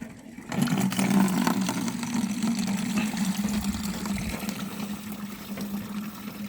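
Water runs steadily at outdoor fountains fed by a concrete water tank, a continuous splashing rush with a low hum beneath, close and unbroken, with no talking.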